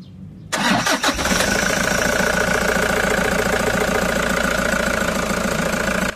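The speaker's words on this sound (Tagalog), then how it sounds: "okay lang, pa-start ko na itong makina" A Toyota HiAce van's engine cranks briefly, catches, then settles into a steady, loud idle that continues unbroken, close up with no talking.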